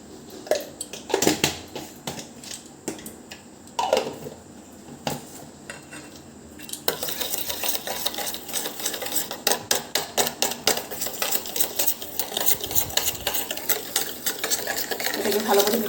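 A spoon scrapes and clatters rhythmically against a bowl while batter with baking soda is mixed, starting with scattered knocks and then turning into fast, steady stirring strokes close by, with no talk.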